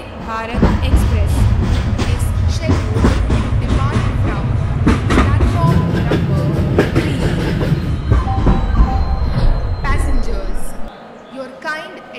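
A Vande Bharat Express train in Indian Train Simulator rumbles steadily along with rhythmic clacking and squealing wheels, loud and close, with voices over the top before it cuts to near silence at the end.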